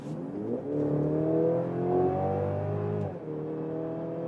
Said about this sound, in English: let's start here in the sport mode, GLC 300, and let's accelerate it out.